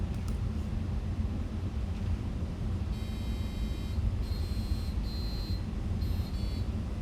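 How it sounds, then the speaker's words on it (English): A small electronic buzzer plays a programmed sequence of thin, steady beeping tones at different pitches over a constant low rumbling background hum, fairly faint. "you can start to use this basic example to have your buzzer make some noises"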